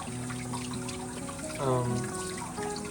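Warm water is poured into a container while feeding a sourdough starter, a steady trickling stream with a rising gurgle as it fills, alone and close.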